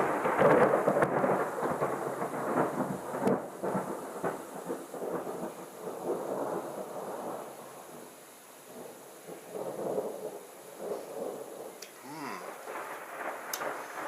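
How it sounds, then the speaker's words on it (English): Thunder rolls during a thunderstorm with rain, long low rumbles swelling and fading over several seconds, fairly distant and moderately loud, with a soft patter of rain in the background. "hope that thunder's not completely destroying this review"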